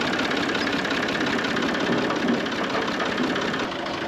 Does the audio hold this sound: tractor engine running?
yes